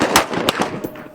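Rapid gunfire at an outdoor shooting range's rifle side, with several sharp cracks in quick succession close by, their echoes ringing between shots.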